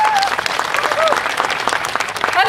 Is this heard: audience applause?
yes